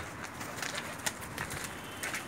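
A pair of teddy pigeons cooing softly, faint repeated low coos against light background noise, heard briefly.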